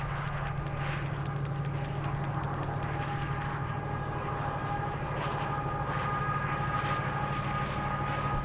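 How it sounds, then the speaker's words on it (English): A freight train passing a railway spot in the English East Midlands, a continuous heavy rumble with a rapid rhythmic clatter of wagons on the rails, steady and fairly close for the whole stretch, no voices. "now the train's gone"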